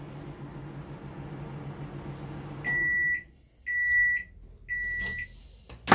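A Samsung microwave oven hums steadily during a repair test, then three loud, clear electronic beeps sound in sequence as the cycle ends, nearby with no talk.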